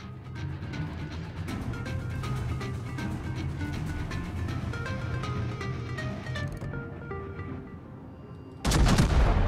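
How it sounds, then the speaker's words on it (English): Naval gunfire in the World of Warships video game, with the battleship Scharnhorst shelling, comes as a steady rumble of heavy guns and impacts with ringing tones, ending in a sudden loud burst. "We are getting shot by the Scharnhorst."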